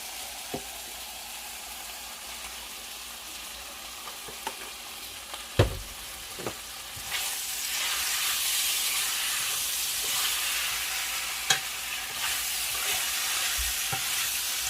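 Oil sizzles and hisses steadily in a pan while cooking Philly cheesesteak, the frying growing louder and denser about halfway through, with a few sharp clicks and knocks scattered throughout.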